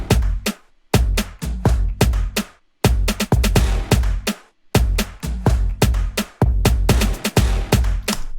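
Layered drum stabs combined with toms in a music mix drive a dense, loud groove of sharp hits with booming low-end body, repeating in phrases with short breaks of silence.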